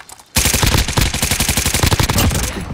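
Rapid automatic gunfire in the video game Warzone Rebirth Island, a loud dense burst of closely spaced shots that starts abruptly and rattles on for a couple of seconds before trailing off.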